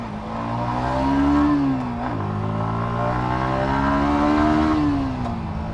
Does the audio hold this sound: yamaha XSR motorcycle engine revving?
yes